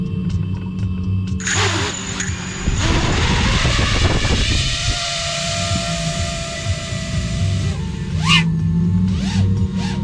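An FPV drone armed in 3D mode spools its motors to mid-throttle with a rising electric whine and a few swooping pitch changes. Brief rattling handling noises come midway, and the motors stay close and fairly loud.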